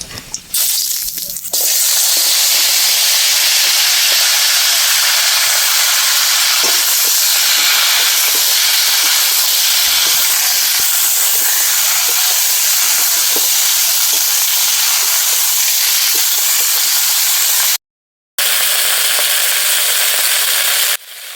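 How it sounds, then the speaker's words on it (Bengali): Cut pumpkin and Malabar spinach hit hot oil tempered with cumin seeds in a pan, setting off a loud, steady, close hiss and sizzle that runs on with a brief break near the end. "প্রথমেই কেটে ধুয়ে রাখা মিষ্টি কুমড়ো এবং পুঁই শাক দিয়ে দেবো"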